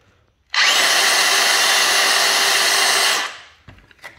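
DeWalt cordless drill on a 20-volt battery spins up abruptly and holds a steady, loud high whine for about three seconds before winding down, with a few faint clicks after.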